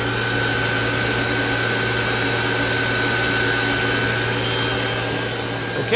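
Spindle of a Citizen L20 CNC Swiss lathe running steadily at 7,000 RPM, a loud continuous even whine and hum close by with no change in pitch, no voices.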